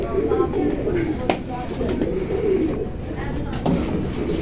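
Pigeon coos near its cage roll in repeated low, throaty phrases at close range, with steady background noise and occasional light clicks underneath.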